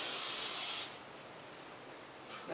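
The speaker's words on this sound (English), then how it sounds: "So basically you're just going to evenly spray it." A short hissing burst of cooking spray into a pan, loud at first and then softer and steady, close up with no talking.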